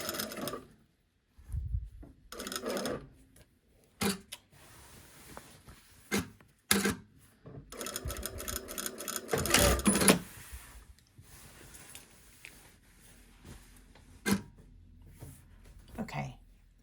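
A sewing machine stitches an inseam pocket on a shirt, running in short intermittent bursts separated by pauses, with small handling rubs and clicks between runs.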